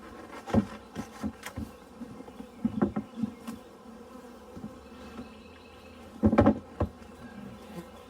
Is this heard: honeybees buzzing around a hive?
yes